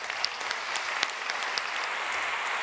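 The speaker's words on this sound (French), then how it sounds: "nous remplacerons par des applaudissements longs, nombreux, enthousiastes" Applause from a congress audience of a national federation meeting, a steady wash of many hands clapping at moderate distance, fairly even in intensity with a few sharper claps standing out.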